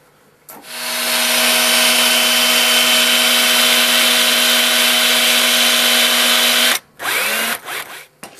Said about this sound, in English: Now we're going to drill our holes in so we can bolt the plastic to the knife.